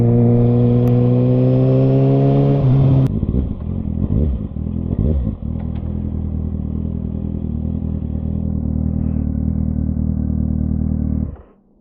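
A Kawasaki 636 sport bike fitted with an M4 slip-on exhaust revs loudly up through several rising pitches, drops off sharply, then settles into a steady, heavy idle rumble close by before cutting out.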